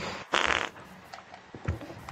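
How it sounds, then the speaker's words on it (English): Fart sound, one short, harsh, noisy burst near the start followed by a fainter low blip, close and brief in a game chat setting. "That's my fart."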